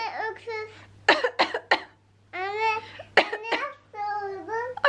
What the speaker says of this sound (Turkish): Anne öksür.